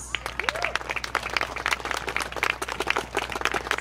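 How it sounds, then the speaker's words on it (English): Festival audience applauding steadily, a dense wash of many hands clapping at an outdoor cultural celebration, continuous and fairly close for the whole stretch. "let's give them a big round loud applause."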